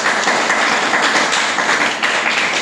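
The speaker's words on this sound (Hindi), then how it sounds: "आप सीख गए तो ताली बजा सकते हैं अपने लिए।" Clapping heard as a dense, continuous patter of hands at steady loudness, like applause from a group, close and without speech.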